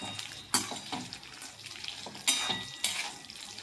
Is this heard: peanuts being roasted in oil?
yes